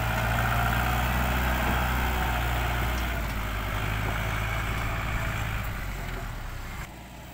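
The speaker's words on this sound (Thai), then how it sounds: "รถไถคูบาต้า L5018นะครับดันดินอยู่หน้างาน" A Kubota L5018 tractor's diesel engine pushing soil at a work site, a steady low rumbling drone close by that holds throughout and eases off slightly near the end.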